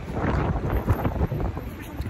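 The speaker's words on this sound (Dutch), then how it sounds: "Het is echt ijskoud en het waait" Cold wind blows steadily outdoors, buffeting the microphone with a continuous low rumble and gusty roar.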